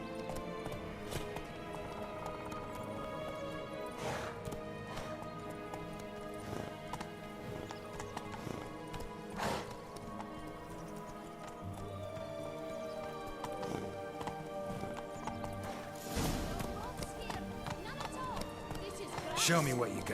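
Geralt's horse Roach galloping in The Witcher 3, a steady rapid clip-clop of hooves running throughout with a neigh, while game voices talk over the hoofbeats.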